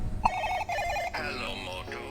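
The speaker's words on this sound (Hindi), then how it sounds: "आज ना हमारे पास में ये वाला फोन है जिसकी रिंगटोन कुछ इस तरह से" A bright electronic ringtone from a Motorola Edge 70 smartphone plays a short repeating melodic phrase, fairly clear and close, followed by a shifting tonal passage.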